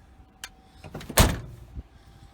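A few sharp mechanical clunks and clicks as the door locks of a 1989 Chevrolet K5 Blazer actuate, with one louder thunk in the middle and quiet pauses between.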